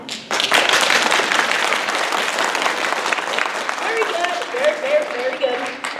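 A theatre audience at a children's play claps loudly and steadily for several seconds in a dense, continuous wash of applause, with some voices mixed in toward the end.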